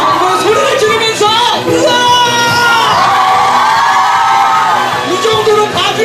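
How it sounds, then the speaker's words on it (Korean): An audience at an indoor fireplace concert shouts, whoops and yells together in a loud, sustained crowd roar lasting several seconds with rising cries over it. "소리를 지르면서"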